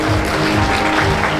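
An audience at a Junior Chamber senate speaker's inauguration ceremony applauds in a dense, loud, steady wash of clapping.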